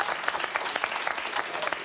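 Studio audience applause during a television panel show, a dense, steady burst of clapping filling the brief moment with no talk over it.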